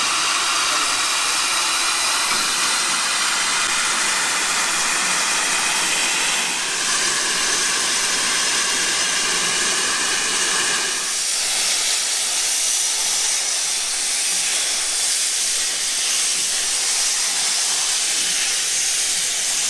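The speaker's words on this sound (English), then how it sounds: "A lot of steam there." A steam engine at a historic dockyard vents a loud, continuous roaring hiss of steam that swells midway and keeps going for about twenty seconds, close by with no talk over it.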